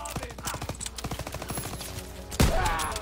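Gunfire from another player in the World War II shooter Call of Duty: WWII, a rapid burst of close, sharp shots for about two seconds, then a heavier blast with a low rumble that trails off.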